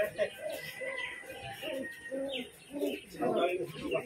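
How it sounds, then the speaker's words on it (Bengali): Pigeons at a loft keeping several breeds, including Madras highflyers, coo in repeated low throaty phrases close by, with a few higher chirps mixed in. "বাইরের দিকেও দেখবেন কিছু পায়রা ছাড়া রয়েছে এদিকে"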